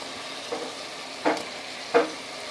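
A ground paste of green chilies, coriander and tomato goes into a hot pan for green chicken curry and gets stirred, giving a low background hiss with a few brief scraping clinks of the spoon, close and quiet.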